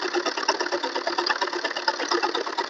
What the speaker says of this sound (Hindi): ऐसे हम पूरी सलवार का घेर सिल लेंगे।